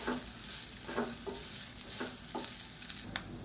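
Steamed pidi kozhukattai are tossed in oil in a pan: a soft, steady frying hiss broken by a series of light scraping strokes from a spoon.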